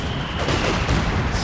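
Gunfire in Company of Heroes 2 as troops kill an enemy sniper: a dense, continuous crackle of shots and rattling bursts that fills the whole short stretch at close, steady loudness, with no talking.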